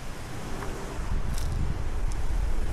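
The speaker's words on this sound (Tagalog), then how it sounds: "Ang hangin lamang ang aking naririnig." Outdoor wind at a nature camp near a river, a steady broadband rush with low gusty rumble building slightly over a few seconds, no talking.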